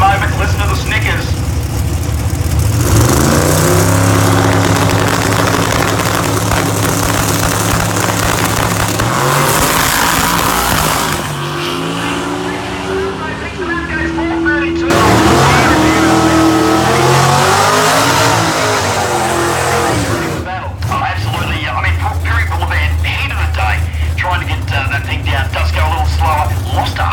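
Loud turbocharged drag race cars roar and rev hard at a drag race, rising and falling in pitch as they launch, a sustained powerful din with no talk.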